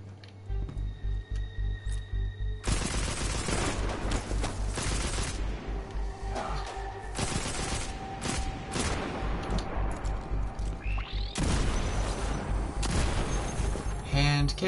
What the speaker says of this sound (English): Hand cannon.